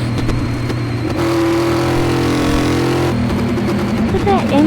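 High-powered car engine of about 1016 horsepower in Car Mechanic Simulator 2018, a loud sustained rev with steady droning tones and a shift in pitch midway, under voices.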